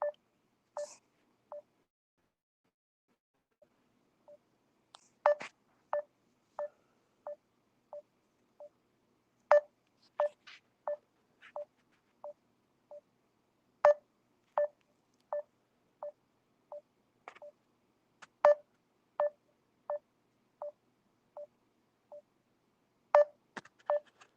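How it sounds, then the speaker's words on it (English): A FaceTime call is placed, giving a long run of short, evenly spaced electronic tones in repeating bursts, clear and moderately quiet with no talk over them. "Let's see if we can call him back. It's FaceTime him this time."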